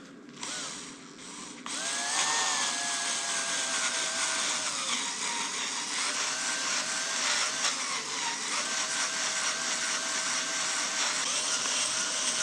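Power drill boring into the steel of a forwarder log trailer during repairs, a sustained high whine with a shifting motor pitch that runs steadily and loud at close range after a brief start.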